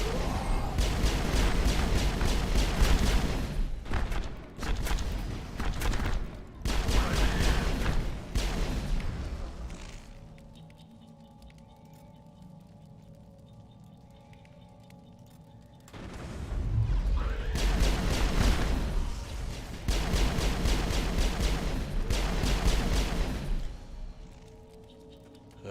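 Grenade blasts and bursts of gunfire in the sci-fi video game Mass Effect, with long, loud stretches of booming fire broken by a quieter gap holding a low droning tone.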